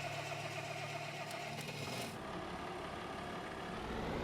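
A vintage Farmall tractor engine idles in Farming Simulator 25 as a steady, close, low rumble, with a brief clatter and shift in tone partway through before it settles back into an even hum, with no voices over it.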